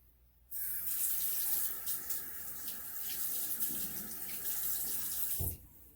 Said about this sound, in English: I'm going to start first by trying some cold water to rinse off these germs